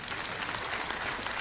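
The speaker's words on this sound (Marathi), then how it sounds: "जरा जोरात टाळ्या वाजवा." Audience applause at a formal event with India's Chief Justice Uday Lalit in Solapur: a short, dense burst of many hands clapping, steady and fairly loud throughout, with no voices.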